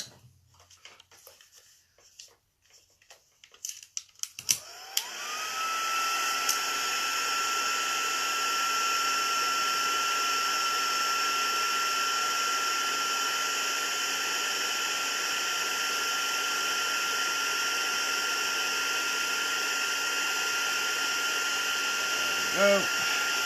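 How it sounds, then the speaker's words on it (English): A heat embossing tool blows hot air over a stamped card, a steady loud whirring hiss with a high whine that starts after a few seconds of quiet handling noises and runs continuously to the end. "So I'm just going to heat emboss that."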